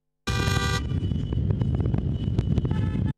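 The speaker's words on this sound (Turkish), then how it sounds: "araçlarına taktıkları Türk bayraklarıyla korna çalarak İbrahim Fırtına Bulvarı'ndan başlayarak şehir içinde tur attı" A taxi convoy honks its car horns through a city boulevard, one long blaring horn followed by continuous traffic rumble and scattered short toots, loud and close.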